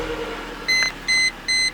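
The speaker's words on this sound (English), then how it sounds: "Does this beep thing because you don't have your seatbelt on" Three short, even electronic beeps from a car's seatbelt reminder, evenly spaced over low engine idle.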